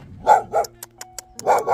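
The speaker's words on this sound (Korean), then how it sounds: "저 댕댕이가 예, 자꾸만 짖어요." A dog barks sharply and close by in a remote mountaintop village, three loud barks spaced apart with faint clicks and rustling in between.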